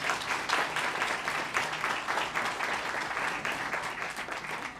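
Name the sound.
audience applause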